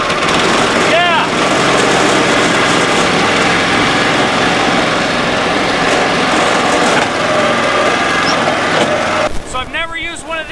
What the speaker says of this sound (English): Got the choke on and the engine on.